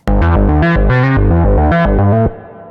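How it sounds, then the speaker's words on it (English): A distorted Moog synthesizer plays a short run of gritty, buzzy notes in a quick rhythm, then cuts off abruptly. "So what we want to do is increase the distortion a little bit."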